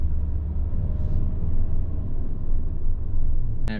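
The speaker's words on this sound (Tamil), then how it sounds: "இந்த பக்கம் வண்டி வருது" Road traffic near a toll gate in Bangalore: a steady, loud low rumble of vehicle engines passing close by, with a brief horn-like tone at the very end.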